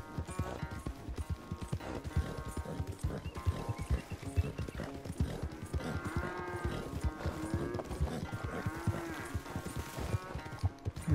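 A herd of cattle in Red Dead Redemption 2 moos repeatedly amid steady clopping hooves as they are herded, a busy, continuous mix of animal calls and footsteps.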